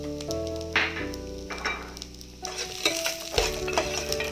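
Ginger, garlic and cashews tossed into onions frying in hot oil for paneer butter masala, with steady sizzling, clinks and stirring scrapes close by, no talking.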